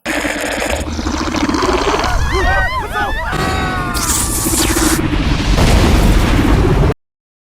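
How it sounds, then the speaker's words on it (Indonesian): Bombs exploding in a sea monster film, loud continuous bursts and rumbling blasts layered with high whistling squeals, building to a heavier roar before cutting off abruptly. "Monster itu pergi setelah mereka tembak dan meledakkan bom."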